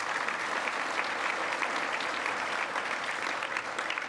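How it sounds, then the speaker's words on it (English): Sustained, dense applause from a large audience at an ATSE awards gala, steady and full throughout with no pauses or voices breaking through. "Please give another round of applause."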